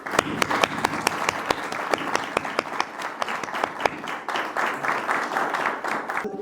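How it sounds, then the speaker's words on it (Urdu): Audience applause fills a book launch ceremony in Ilford, London, as a guest is welcomed: steady, dense clapping for several seconds with sharp individual claps standing out, fairly close and continuous. "ہم آج کے مہمان خصوصی محترم جناب ڈاکٹر پیٹر ڈیوڈ صاحب کو ریسیو کریں گے, اور وہ تالیوں کی گونج کے ساتھ سامنے تشریف لائیں گے"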